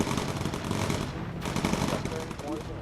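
Rapid machine gun fire from a turret in the World War II bomber game Bomber Crew, a dense, continuous rattling burst close up that runs throughout with a brief dip near the middle, with anti-aircraft flak action around it.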